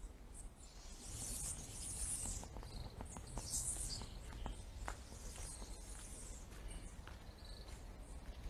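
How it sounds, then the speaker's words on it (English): Outdoor ambience with steady high insect or bird chirping, scattered faint clicks and rustles, and a constant low rumble underneath. "I want to give you a chance to hear the birds and stuff."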